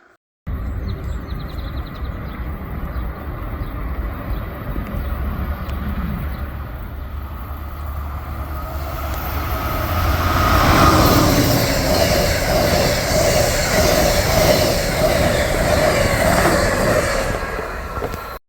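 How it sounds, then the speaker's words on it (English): An Amtrak Northeast Regional passenger train approaches Seabrook station with a low rumble that builds to a loud, roaring pass with rattling wheels, sustained to the end, no voices. "Our first train to Seabrook was a Northeast Regional."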